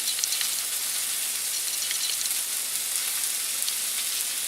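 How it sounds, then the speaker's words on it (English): Steaks frying in a pan on a grill, a dense steady sizzle and crackle of hot fat with scattered pops, continuous and moderately loud, with no voices. "now I'm frying up the steaks"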